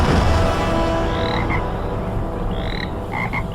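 A frog croaking in a comedy sketch after a spell turns a person into one, heard as a few short croaks over a loud, dense, continuous background wash, without speech.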